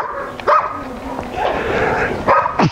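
A dog at home gives a few short barks and yips with whimpering whines between them, close and loud, alongside other indistinct household sounds.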